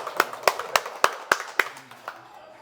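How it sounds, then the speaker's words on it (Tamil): A group at Thiruvadinilai in Sulipuram, Jaffna claps hands in unison. About eight sharp, evenly spaced claps land close by, then the last few grow weaker and fade out. "எல்லாம் கைதட்டுங்க"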